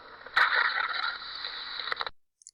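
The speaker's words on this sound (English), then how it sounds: "That is the sound of a camel." A camel calling, one long, loud, harsh, droning bellow lasting about two seconds, then silence.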